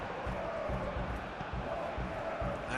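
Stadium crowd noise in the PES 21 football video game, a dense, continuous roar with rhythmic chanting pulses throughout, steady and fairly loud.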